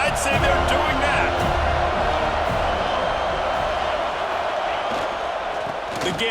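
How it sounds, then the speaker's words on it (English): A stadium crowd roars continuously at a road game in College Football 26, a dense, loud wall of cheering that holds steady throughout beneath a commentator's voice. "When you go on the road, man, oh man, do you love hearing the crowd."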